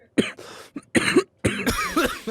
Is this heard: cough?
yes